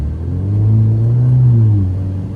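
Alfa Romeo Giulia engine revving in sport race mode, a deep, loud rumble that swells and then eases back over about two seconds, with no talk.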